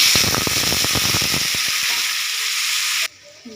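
Meat broth poured into a hot frying pan of onions for a chicken filling hisses loudly into a crackling sizzle with stirring clatter, then cuts off abruptly near the end.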